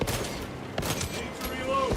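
Rapid gunfire from a weapon in the video game Space Marine 2, a dense fusillade of overlapping shots with a few sharper cracks, loud and close, running steadily under game noise.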